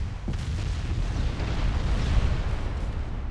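Naval gun salvo and shell explosion in the warship game Ultimate Admiral Dreadnoughts, a deep continuous rumbling boom that swells and rolls for several seconds after an initial thump, heavy and loud in the low end.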